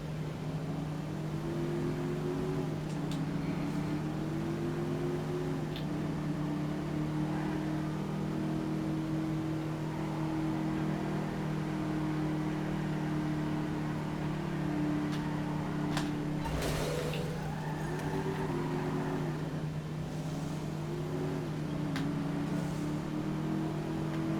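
The Bullet sports car in GTA V Online drones and revs through gear changes, pitch rising and falling, with a brief crunchy impact midway.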